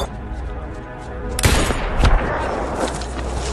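Gunfire from a shootout in the crime thriller A Walk Among the Tombstones: two loud, close shots around the middle over a dense, rumbling action-movie soundtrack, with faint voices underneath.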